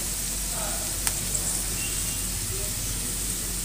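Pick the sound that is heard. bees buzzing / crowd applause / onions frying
onions frying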